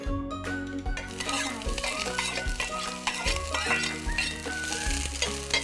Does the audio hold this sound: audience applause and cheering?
no